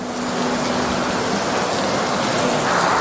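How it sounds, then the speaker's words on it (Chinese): Simulated rain from a spray rig pours steadily over a new RV during a water leak test, a dense, even hiss of water drumming on the body throughout. "淋雨试验也等于是洗车呀"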